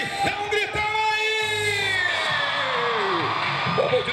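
A live show crowd yells and cheers loudly at an evening event, a sustained roar of shouts and whoops swelling and fading in waves, close and unbroken.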